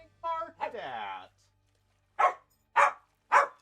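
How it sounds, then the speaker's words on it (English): A small dog barks three times in quick separate bursts near the mic, following a stretch of nearby talk. "Why am I getting barked at?"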